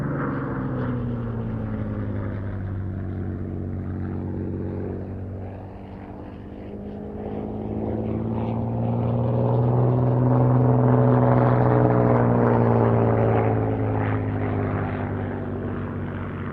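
A Hawker Fury biplane fighter with a Rolls-Royce Kestrel V12 engine drones overhead at an air show, a loud, sustained engine tone that dips slightly, then swells and shifts in pitch as it passes.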